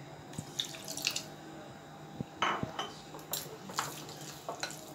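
Water poured into semolina (rava) idli batter in a kitchen, with splashing and runs from a tap plus scattered clinks of utensils and a bowl, no speech.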